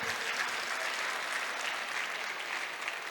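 Loud, steady applause from an audience of students at a college cultural programme, dense even clapping holding at a constant level from start to finish without speech.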